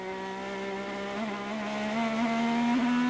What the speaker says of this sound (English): let's listen to the throttle here